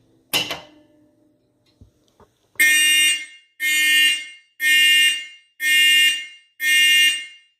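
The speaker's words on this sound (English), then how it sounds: "So we have the Simplex 4251111." A vintage Simplex 4251111 fire alarm sounds in five evenly spaced, loud, harsh horn blasts, each about half a second apart, after a faint click and a few knocks.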